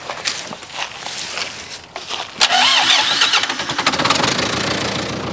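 A telehandler engine cranks and catches after a few footsteps and clicks, then settles into a rough, rumbling idle close by, loud and steady through the end.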